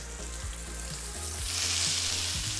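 A steak sears in a hot pan with a dense, continuous sizzle and crackle. It stays fairly loud throughout and builds slightly toward the end, with a few soft knocks underneath and no voices.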